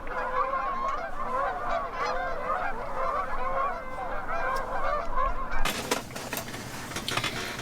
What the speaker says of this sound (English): a whole flock or a gaggle of geese have set up right beside us